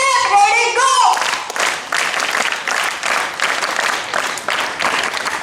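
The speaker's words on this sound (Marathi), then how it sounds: "पुन्हा एकदा टाळ्या झाल्या पाहिजे." A person speaks briefly, then a school audience at a Lokmanya Tilak death-anniversary event breaks into loud, sustained applause, many hands clapping together for several seconds.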